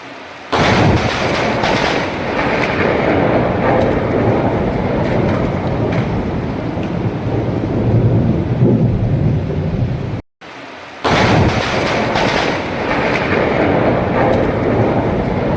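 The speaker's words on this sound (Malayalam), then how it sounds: "സെക്കൻഡുകൾക്കുള്ളിൽ അതിശക്തമായ മിന്നൽ വന്ന് പതിക്കുകയായിരുന്നു" A heavy thunderstorm with a lightning strike over a house terrace in Bihar, a loud, steady roar of pouring rain and rumbling thunder filling the air, briefly cut off before resuming just as strongly.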